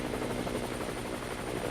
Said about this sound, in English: The helicopter was searching for more.